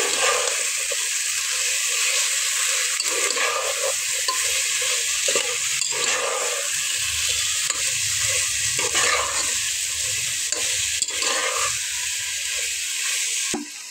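Coriander and cumin powder being stirred into a sizzling onion-tomato masala in a pan while cooking a tilapia fish curry with new potatoes, giving steady frying hiss with repeated scraping stir strokes throughout, close and fairly loud.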